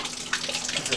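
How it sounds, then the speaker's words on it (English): Water runs from a bathtub in a converted school bus with a close, gurgling splash that sputters and flows unevenly for a brief moment. "So we're just running water out of the bathtub right now."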